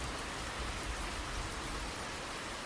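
Steady, dense rain falling on a night, a constant even hiss with no letup and no voices or thunder.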